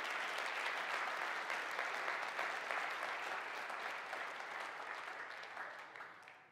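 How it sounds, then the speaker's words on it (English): A church congregation claps together in sustained applause during a sermon, a thick even wash of many hands that holds steady and then tapers off toward the end. "Come on, give the Lord a hand clap right now."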